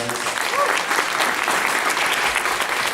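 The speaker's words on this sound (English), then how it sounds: "please, big round of applause for all our wonderful guests of honor" Crowd at an anime convention opening ceremony in Los Angeles applauds guests of honor, a loud, dense, continuous roar of clapping filling the whole stretch with a faint voice briefly underneath.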